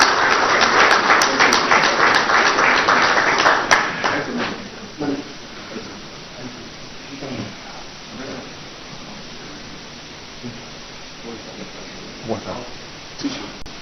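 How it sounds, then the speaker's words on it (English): Audience applause at a distinguished speaker series event, a burst of clapping from the crowd that fades after a few seconds, followed by quieter room noise and scattered low voices. "So please, a round of applause for him."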